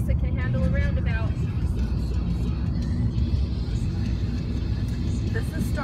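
A car drives through a roundabout on the way to Lake Tahoe, its steady engine and road rumble heard from inside the cabin, with voices talking over it.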